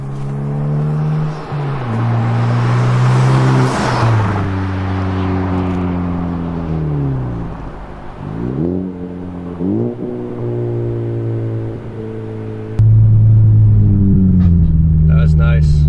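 A car drives past under normal throttle, its loud engine drone rising and falling in pitch as it shifts and moves, close by and fairly steady throughout.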